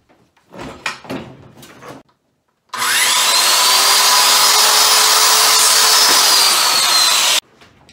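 Power saw cuts a piece of wood for a birdhouse entrance hole, running as one loud, steady, close whine for about five seconds after a few light clunks of handling, then stopping abruptly.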